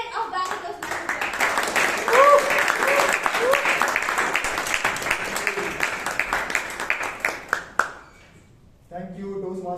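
Audience applause fills a Bangalore Toastmasters Club meeting hall, a dense, steady wash of many hands clapping for several seconds before fading out; brief cheers rise early and a voice speaks as it dies away.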